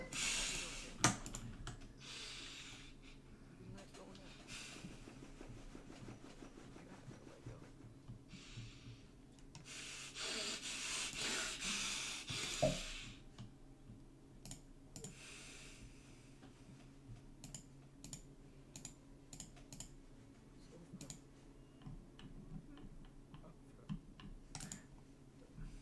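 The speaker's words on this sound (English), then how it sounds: "Can't you hear the typing?" Rapid tapping of keys on a computer keyboard continues steadily throughout, quiet and close, with soft rubbing and breathing in the background and a few louder clicks.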